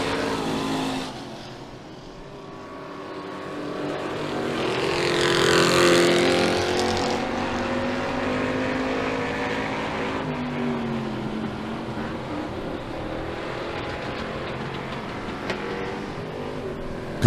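Street stock race cars roar around a speedway oval during a heat race, a broad engine drone swelling as the pack passes near, then settling into a steady distant rumble.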